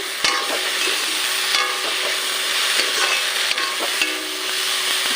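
Loud, constant sizzling of kalmou greens frying in a pan, with repeated scraping strokes of a spatula stirring them, close up.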